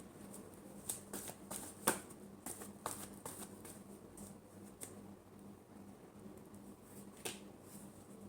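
A deck of tarot cards being shuffled alone in a quiet room, with a run of crisp riffling bursts and soft slaps, the loudest near the start, then sparse card taps over faint background hum.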